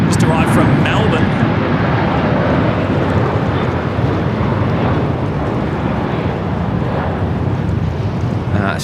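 A jet airliner arriving from Melbourne touches down at Sydney Airport, its loud broad engine and wind roar running steadily throughout with no clear talk.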